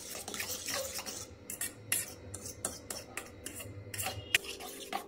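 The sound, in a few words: mixing egg with onion and green chili in bowl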